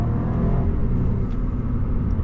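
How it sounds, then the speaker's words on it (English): Exhaust of a new car with a cold-air intake burbling on a downshift, heard as a steady, close, loud rumble from inside the moving car with no distinct pops standing out. "Here's a downshift. Some burbles."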